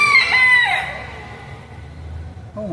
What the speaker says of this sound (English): Wow, that is a beautiful cockerel.